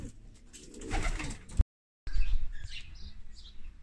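Domestic racing pigeons at a multi-breed loft, with soft cooing and bird calls near and moderately loud, broken by a brief silent gap before the flock sounds resume.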